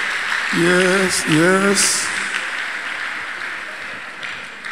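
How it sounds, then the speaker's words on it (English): A church congregation claps for Jesus at a miracle service, a dense, sustained wash of applause under a loud, excited voice shouting briefly. "Clap for Jesus, clap for Jesus, clap for Jesus."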